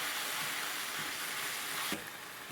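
Noodles stir-frying with black bean wok sauce in a hot pan, a steady loud sizzle that holds throughout, with a brief scrape of stirring near the end.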